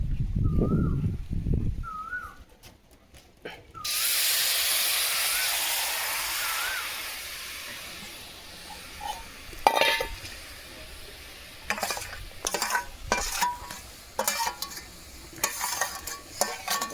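Oil-free, water-free raw mango pickle mix poured into a wok: after some soft clatter, a sudden loud sizzling hiss erupts and slowly fades, followed by scraping stirs and metal clinks against the pan.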